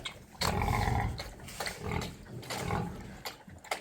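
A pig grunts and snorts in rough bursts while eating chicken broth, with wet chomping and snuffling sounds between them, close by.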